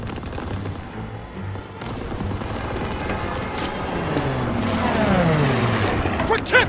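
An anti-aircraft gun firing in a WWII battle video game, sustained rapid heavy gunfire building in intensity amid battle noise, with distant shouting voices.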